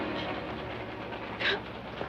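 A moving train in a 1965 Western drama setting gives a steady, dense rumble with a low rhythmic clatter throughout, plus a brief brighter burst near the middle.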